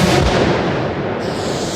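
A US-made self-propelled howitzer fires close by, a deep booming roar with a long rumbling tail that fills the whole moment.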